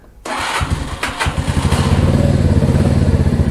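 A Mash Fifty motorcycle engine, recently rebuilt after a blown head gasket, cranks and catches without choke, then settles into a steady, loud, close-up idle with a fast regular thump.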